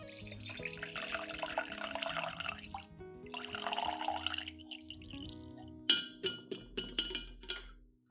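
Shallot extract liquid filtered and dripping after the residue is strained out, a run of pouring and trickling followed by several distinct drips near the end, close and fairly quiet.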